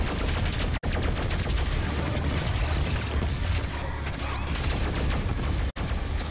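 Rapid, dense gunfire from the video game Doom Eternal, with continuous weapon blasts and heavy booms filling the whole stretch, loud and relentless, with two brief cuts in the sound.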